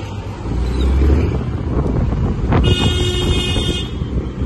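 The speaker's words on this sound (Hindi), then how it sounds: "पीछे से कोई हॉर्न मार रहा है कॉन्टिन्यूसली मेरे को" A car horn honks from behind on a busy street, with a bright tooting blast rising over heavy wind and traffic rumble near the microphone.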